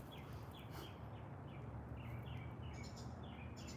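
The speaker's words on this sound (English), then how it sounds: "Hope you can hear the lovely birds also in the garden." Birds sing in a garden early in the day, faint repeated chirps and short tweets over a soft background hush, fairly distant.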